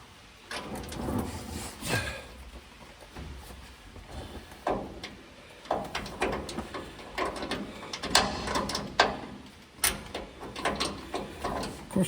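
A wrench tightens a fitting on a 1970 GMC truck, producing irregular clicks, ratcheting scrapes and metallic knocks that come in short bursts at close range and pause between efforts.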